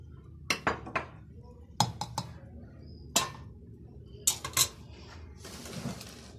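Zucchini and rice being served onto a plate, with several sharp clinks of a spoon against dishes at irregular intervals and a brief scraping rustle near the end, close and moderately loud.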